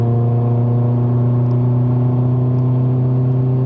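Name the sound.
Mercedes-Benz C180 W205 engine revving under acceleration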